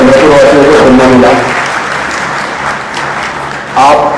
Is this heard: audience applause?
yes